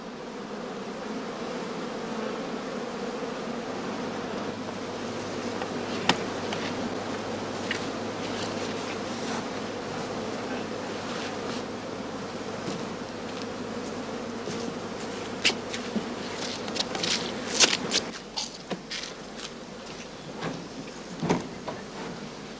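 Bees buzz around sulfured heather skeps at a heathland skep apiary in northern Lower Saxony, a steady insect drone with brief louder passes near the end.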